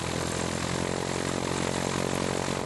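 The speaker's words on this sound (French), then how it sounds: "À 150 mètres du sol, un T6, avion école de l'armée française, des années d'après-guerre, salue les enfants" A North American T6, a post-war French army trainer aircraft, passes low overhead at about 150 metres with a steady, loud propeller-engine roar that fills the whole stretch.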